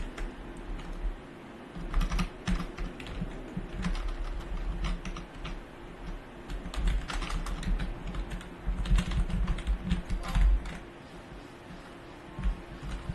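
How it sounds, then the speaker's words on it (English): Fingers tap out bursts of keystrokes on a computer keyboard, close and clicky, in uneven runs with short pauses between them, and nobody speaks. "I'm going to have to go ahead and type in a spawn ID here"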